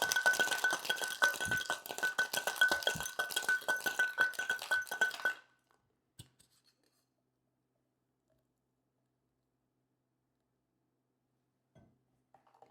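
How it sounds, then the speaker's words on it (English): Ice cubes rattle hard inside a sealed cocktail shaker tin for about five seconds in a fast rhythmic clatter with a metallic ring, then stop abruptly, leaving near silence and a few faint clicks. "Combine everything, give it a good seal, and once again,"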